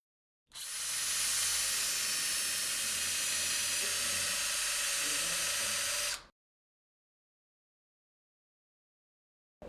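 A 2.8 mm drill bit bores a hole in bone with a steady high-pitched whirring hiss lasting about six seconds, then stops abruptly into silence.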